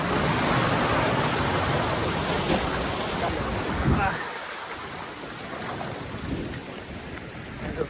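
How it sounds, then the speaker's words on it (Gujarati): Sea waves at a beach at sunset, a loud continuous wash of surf with a brief lull midway, and a voice talking faintly underneath. "અત્યારે આપણે દરિયામાં આવેલા છે."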